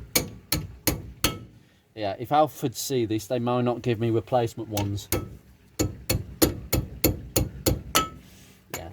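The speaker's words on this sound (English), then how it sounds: "I'm just going to give it a whack." Brake pads on a front brake overhaul being knocked into place by hand, a run of sharp, regular taps that stops while someone talks, then resumes as a quick series of close, crisp knocks.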